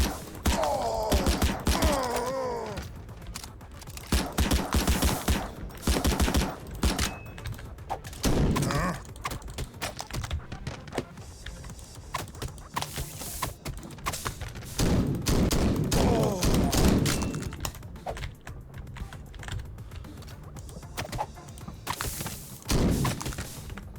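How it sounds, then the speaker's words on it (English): Pistol gunfire in the MADNESS: Project Nexus arena game, loud repeated sharp shots in quick bursts and single cracks with thuds and impacts between them, close and dense throughout, no speech. "let's break out the pistol"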